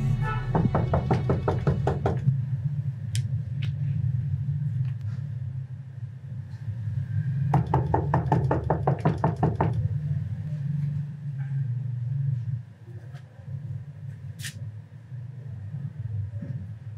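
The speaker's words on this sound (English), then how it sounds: "Yes, I'm at your door and I'm knocking." Rapid bursts of knocking on a house door, two clear runs of quick raps separated by pauses, loud and close over a low steady rumble of background noise.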